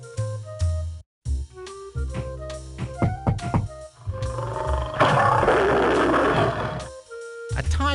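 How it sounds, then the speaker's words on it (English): A loud, drawn-out tiger roar in the PC game Playhouse Disney's Stanley: Tiger Tales swells and rumbles over busy game sound effects and music, preceded by short bursts of clatter. "A tiger's roar can be heard over a mile away"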